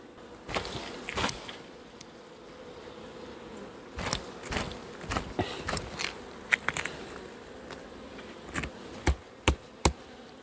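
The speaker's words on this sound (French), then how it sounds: "Hop, on le secoue, on enlève les dernières abeilles." Honey bees buzzing steadily around a hive while a comb frame is shaken to clear the last bees during winter preparation, with sharp knocks and taps of the frame against wood punctuating the close, continuous droning.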